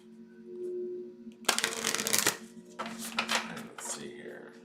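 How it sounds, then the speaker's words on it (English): A deck of cards being shuffled at a table cluttered with several decks, heard as a loud burst of riffling followed by softer shuffling bursts, close by, with no one speaking. "Let me move that over so I have some space to shuffle"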